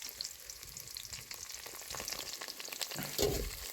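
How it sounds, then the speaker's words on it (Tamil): Shallots and curry leaves sauté in hot oil for a Chettinad country chicken curry, a steady close sizzle with soft stirring scrapes, swelling louder near the end. "இப்போ நம்ம வந்து பார்த்திங்கன்னா நல்லா வதக்கிக்கலாம்"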